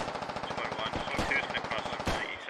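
Rapid automatic gunfire in the military shooter game Squad, with dense bursts of shots fired at around 300 meters, loud and continuous with a few sharper cracks, and faint voices underneath.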